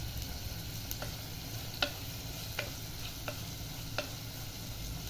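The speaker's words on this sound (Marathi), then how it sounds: "सर्वप्रथम साजूक तूप ॲड केले, त्यात तेजपान आणि कांदा व तसेच टोमॅटोही ॲड केले" Onion, bay leaf and tomato sautéing in ghee in a clay pot give a steady soft sizzle, with a few sharp spoon taps against the pot spaced about a second apart, and no voices.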